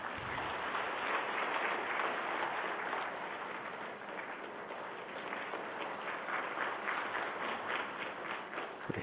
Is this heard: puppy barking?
no